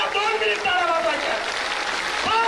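A crowd at a Maratha community rally claps loudly and continuously, while a voice calls out over the dense applause.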